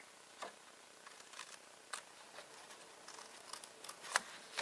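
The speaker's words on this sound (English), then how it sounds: "we're going to cut right here, and we're going to cut right here" Scissors cutting card stock into wedges for a punch-board note card box, giving a series of faint, crisp snips spaced irregularly with small clicks between them, close by and quiet, with no talking.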